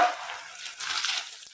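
A brief burst of bubbling, crackling sizzle as homemade potato french fries fry in hot oil, close and fairly loud, with no voices.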